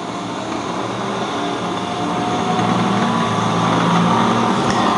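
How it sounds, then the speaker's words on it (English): Race cars roar around the oval at Lakeside Speedway, a loud continuous engine drone that builds slightly as the pack passes, with no talk over it. "So Trevor brings it down into turn number 4"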